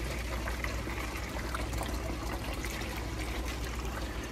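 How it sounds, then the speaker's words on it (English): Fresh marine seawater being poured into a bottle, a close, continuous gurgling rush of liquid filling the container, steady and loud for a few seconds. "We can start adding our fresh marine water"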